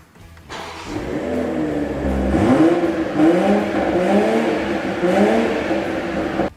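A BMW Z4 M40i roadster's front-mounted 387-horsepower six-cylinder engine is revved loudly and close, climbing and falling through repeated throttle blips over several seconds before cutting off.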